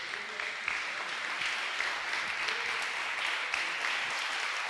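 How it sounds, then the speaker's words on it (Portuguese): A church congregation applauds in a sustained, dense burst of clapping that holds steady for several seconds, filling the room without any speech. "Pode aplaudir o Senhor?"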